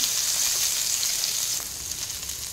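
Garlic, ginger and chopped green chilies sizzle steadily in hot oil, a dense even crackle that holds loud and close without pause, softening slightly toward the end.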